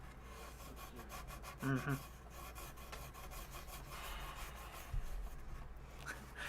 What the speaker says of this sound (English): Went from belt sander to sanding with paper.